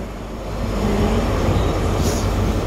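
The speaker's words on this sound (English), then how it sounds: "it's a terminating LNER service from London's Cross" LNER train terminating from London King's Cross pulls into a platform at Edinburgh Waverley, a loud steady rolling rumble swelling near the start, with a brief faint high squeal of brakes toward the end.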